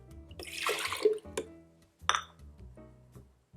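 Water poured from a cup into a glass bowl of liquid ingredients for a plant-based vegan lemon cake, close up: two short splashy pours with light glass clinks, no talking.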